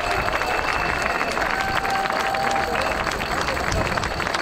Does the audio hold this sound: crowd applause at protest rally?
yes